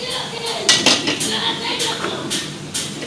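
Metal spoon scraping and clinking in a cooking pot while crushed and ground red chilli, dried coriander, whole coriander seeds and anardana are stirred together; irregular close clanks and scrapes over about three seconds.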